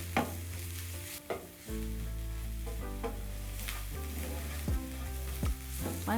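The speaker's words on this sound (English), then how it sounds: "Next, I'm going to add my remaining crushed garlic and ginger. Stir." Crushed garlic and ginger sizzle and fry in a pan for chicken tikka masala, with steady close frying hiss under repeated spoon stirs and scrapes, and a low background hum throughout; no talking.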